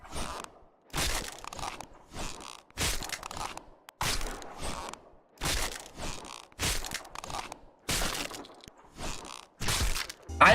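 Repeated bursts of sharp crunching, crackling impacts from the Death Valley pickaxe in the video game Fortnite, about ten close, loud hits in an uneven rhythm with short gaps between them.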